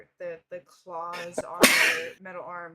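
A person sneezes once, loud and close, during a tabletop role-play session; a voice imitates the sneeze while talking before and after it.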